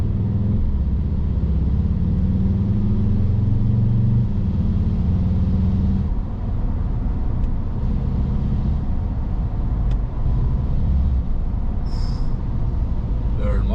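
VW Jetta GLI MK6 with a suspected turbo fault, its engine giving a low, rough, tractor-like rumble that drones close by throughout, with a voice talking over it.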